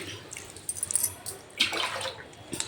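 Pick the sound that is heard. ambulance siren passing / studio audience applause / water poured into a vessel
water poured into a vessel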